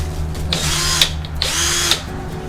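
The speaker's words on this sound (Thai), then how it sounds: "ทุกอย่างมันน่าจะขึ้นอยู่กับสว่านตัวนี้แหละครับ" A power drill fitted with a multi-purpose drill bit whines loudly in two sustained bursts, each rising in pitch as it bites, separated by a short lull.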